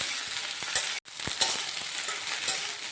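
Chopped okra and onion fry over high flame in a pan, a loud continuous sizzle broken by spatula stirs and a brief pause.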